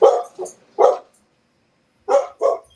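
Roxy the dog barks in two separate bursts: three sharp, close, moderately loud barks, then a pause of about a second, then two more barks. No talking is heard.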